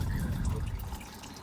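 Hot coolant drains from the radiator plug of a 2008 Ford Territory, a steady, low trickling and splashing flow close by with no talking.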